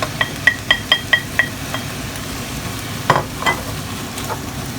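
Ginger and garlic cubes hit a hot pan with prawns. A run of sharp spatula clinks and scrapes comes first, then a loud stir, all over a low, continuous sizzle.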